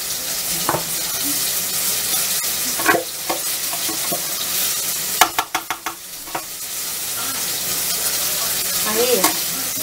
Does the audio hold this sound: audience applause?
no